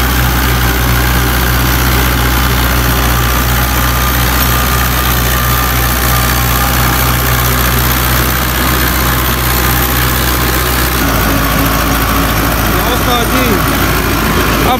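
A 2004 Fiat 640 tractor idles loud and close with a steady low diesel throb, fitted with a 60-blade rotavator; the tone shifts slightly near the end.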